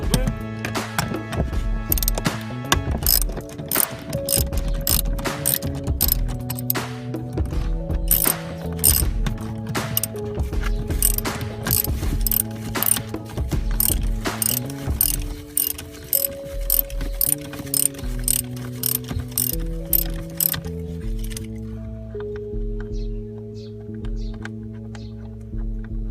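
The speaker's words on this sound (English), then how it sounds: "Now let's remove the other screw. The next screw, let's remove it." A ratchet works screws loose on a Mercedes-Benz 280 W124 under restoration, with a long run of close, rapid metallic clicking that pauses and resumes, fading in the final seconds.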